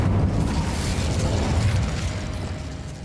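The Incendio fire spell is cast in Hogwarts Legacy during Percival Rackham's Trial. It comes as a loud, deep rumbling burst with a rushing roar that holds steady, then slowly eases off over a few seconds.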